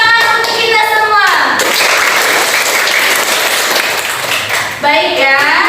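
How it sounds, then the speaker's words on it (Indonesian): A class of children clapping hands together in a classroom, a dense and steady burst of applause lasting several seconds, with brief voices at the start and end. "Tepuk tangan untuk kita semua."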